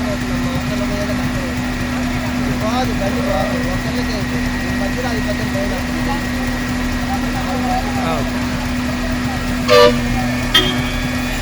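A large vehicle idles in a flooded residential colony during the Vijayawada floods, a steady engine rumble under voices, with a couple of short horn toots near the end.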